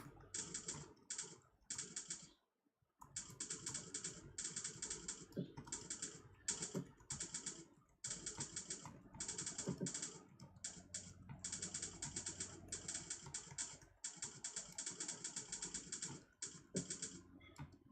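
Rapid typing on a computer keyboard, close up, with dense bursts of key clicks broken by short pauses, quiet overall and without any talk.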